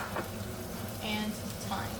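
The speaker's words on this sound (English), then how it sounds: "We are then going to flip the steak, and we are going to baste it with a tablespoon and a half of butter" Steak sizzling in a pan as it is basted with butter, a steady close frying hiss that carries through the whole short stretch.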